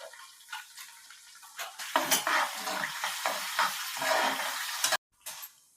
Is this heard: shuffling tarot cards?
no